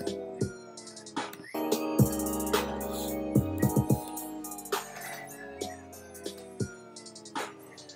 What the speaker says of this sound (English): Fade out, and then you click slow down.